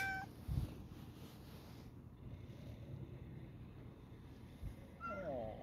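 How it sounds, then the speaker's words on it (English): A cat meows faintly outdoors, a short cry near the start and rising mewing calls at the end, over steady wind noise. "Hello, kitty."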